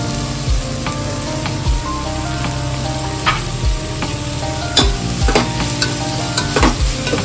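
Soaked and washed dried shrimp frying in a pan for a jackfruit vegetable dish, sizzling loudly up close while a spatula scrapes and stirs in an irregular rhythm, no talk.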